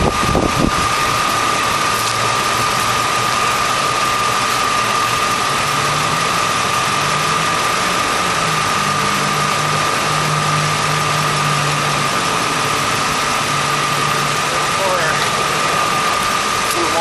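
A Chrysler 331 poly engine that has sat unused for 30 years turns over with a loud, steady mechanical drone that does not catch cleanly, and people talk near it.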